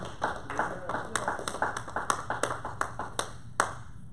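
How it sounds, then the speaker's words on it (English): A church congregation claps in praise during a sermon, a run of about twenty sharp, fairly even hand claps close by, with some voices under them. "Give God a hand clap of praise."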